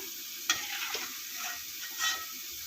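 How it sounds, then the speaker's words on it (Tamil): Lentil dumplings fry in oil in a pan for a spicy curry, with a soft, steady sizzle and a few brief stirring clinks close by, fairly quiet, with no talking. "பருப்பில் உருண்டையை பொறிச்சு எடுத்து வச்சு வருங்க"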